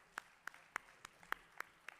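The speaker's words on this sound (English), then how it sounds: "and a big round of applause" At a foundation day and annual research award ceremony, seven sharp, isolated hand claps ring out in a steady, evenly spaced rhythm against quiet room tone as students are called to the stage, faint and fairly distant.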